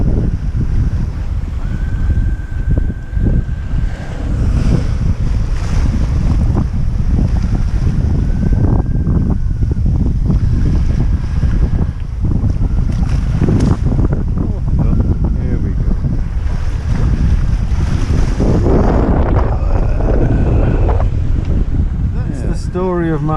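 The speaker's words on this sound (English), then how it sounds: "The wind, shifty and gusty." Gusty, shifting wind roars steadily across a sailboat running in a following sea, with waves and hull rush filling the sound throughout; no voices.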